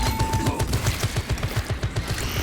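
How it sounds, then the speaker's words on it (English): Tarantula sentry gun hammering out rapid rhythmic bursts in a Warhammer 40k battle, evenly spaced heavy shots close and loud, continuing without pause and with no speech. "Activating tarantula sentry gun."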